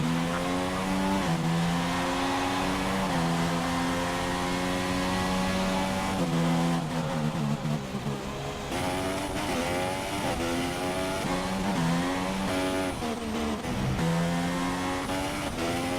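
Sim racing cars at the Bahrain Grand Prix circuit on an opening lap, engines droning and revving continuously with rising and falling pitch as they shift gears, several cars close together, loud throughout with no voices.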